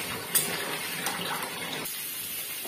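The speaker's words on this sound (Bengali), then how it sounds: "এটা আমি জল অ্যাড করছি" Water pours into a pan of frying masala with a soft gushing splash and a brief clatter at the start, the flow fading to a quieter simmer after about two seconds; no talking.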